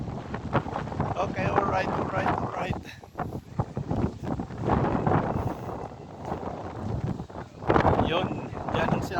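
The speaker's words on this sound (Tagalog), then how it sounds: "ang lakas ng hangin dito" Strong wind buffets the microphone in gusty, roaring bursts at a garden in Berlin near a cable car station, with people talking briefly through it.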